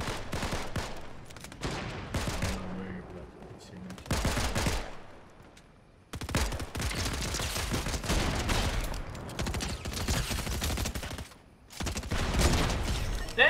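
Gunshots in Fortnite, bursts of firing scattered across the clip with short gaps, mixed among game sounds and busy activity, fairly close and loud in stretches.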